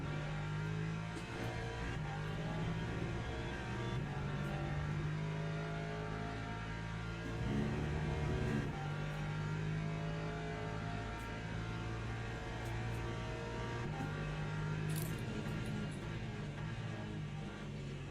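A McLaren race car engine in the Le Mans Ultimate racing game, a steady, loud droning whine that holds a sustained high-revving tone with slight pitch shifts throughout, continuous with no pauses.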